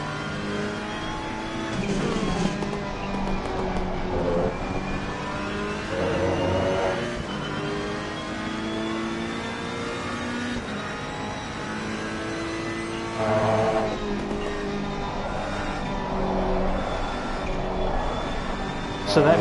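A GT race car in Assetto Corsa Competizione on PS4 at Kyalami snaps into oversteer, its engine revving hard with shifting pitch and tires scrubbing, while a voice talks over the game sound.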